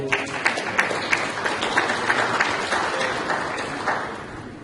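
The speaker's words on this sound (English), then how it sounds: "Please, let's clap for him." Audience at a Nigerian family planning conference applauds a medical council representative, with loud, steady clapping throughout and a few sharper claps near the start, fading slightly at the end.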